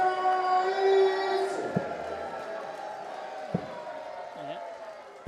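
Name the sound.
darts crowd roaring after a maximum 180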